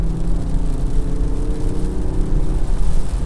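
Diesel engine of a Jaguar F-Pace D300 SUV, a steady low rumble with a deep, even drone that holds throughout without pauses or voices.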